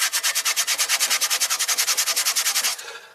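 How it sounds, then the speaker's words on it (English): Rhythmic back-and-forth scrubbing of a rusty cast iron pan being restored, about twenty-five brisk, even strokes close up, each a bright abrasive rasp, with no talking, easing off and fading near the end. "I think I'm scrubbing it too much, actually."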